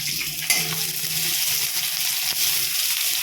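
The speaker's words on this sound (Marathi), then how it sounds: "पटकन घेऊया असं थोडंसं परतत आलेलं आहे ब्राऊन कलर आला आहे आता जरा कांद्याला" Onions sautéing in a pan until brown give a close, steady sizzle, with a spoon stirring and scraping through it and a sharp clack of utensil on pan near the start and another later.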